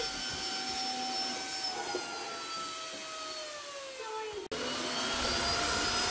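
A Tineco Floor One S3 wet-dry vacuum cleaner runs steadily with a constant, airy whine and hum, cutting out for an instant near the end before resuming at full strength.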